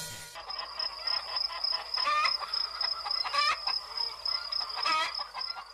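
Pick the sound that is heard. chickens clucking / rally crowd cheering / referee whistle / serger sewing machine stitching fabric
chickens clucking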